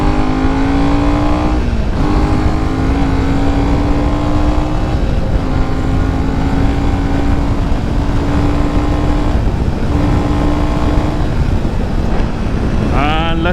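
A Royal Enfield Himalayan 450 motorcycle at full throttle, the engine note climbing steadily through each gear with brief dips at upshifts, loud and close under heavy wind rush, ending with a rising whine.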